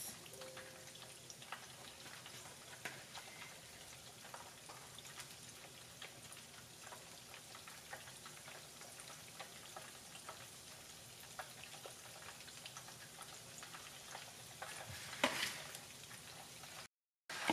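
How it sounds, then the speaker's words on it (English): King crab seafood deep frying in hot oil gives a steady, soft crackling sizzle throughout, with scattered pops and one louder burst near the end. "I am frying the seafood right now."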